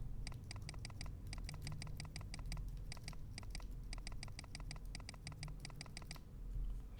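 Keys are tapped on a Lily58 split ergonomic keyboard during a switch test. The clicks are faint and quick, coming in regular clusters of about six taps with brief pauses between groups over a low background hum.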